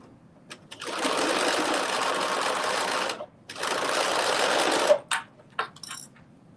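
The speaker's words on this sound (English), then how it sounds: "So I'm just going to do a back stitch a little bit." Two loud, close runs of a home sewing machine back stitching a garment seam, a brief stop between them, followed by a few small clicks.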